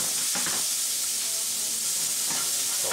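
Peppers and onions hit a hot pan with garlic for a steak pizzaiola, giving a loud, dense hiss of sizzling oil close by with a couple of brief stirring bumps.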